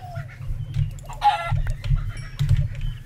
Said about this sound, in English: Ah, there's more chickens here.